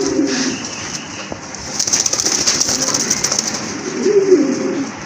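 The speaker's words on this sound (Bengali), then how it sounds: "এটা কিন্তু খুবই সুন্দর এক জোড়া শাটিন কবুতর" A pair of satin pigeons coo at a fancy pigeon sale, with low throaty calls rising at the start and again near the end over a steady rustling, hissing background and no voices.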